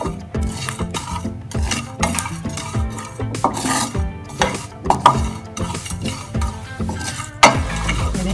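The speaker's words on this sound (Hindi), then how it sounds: "मसालों को हम हल्का सा फ्राई कर लेंगे। इनको हमने हल्का सा पकाना है ताकि इनसे खुशबू आ जाए।" Whole spices stirred and lightly dry-fried in a pan for Karachi biryani, with repeated scraping, clinking stirs of a utensil against the metal pan and a faint sizzle, fairly loud and close, no talk.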